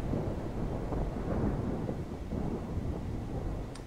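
Thunder rumbles during a lightning storm in Project Zomboid, a steady low roar with rain-like hiss filling the whole stretch at moderate, even loudness.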